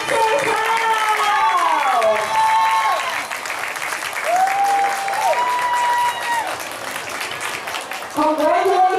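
Applause and cheering from a school sports day crowd at a primary school track meet, with loud sustained clapping and harmonic vocal calls over it that could be cheers or a voice through a PA.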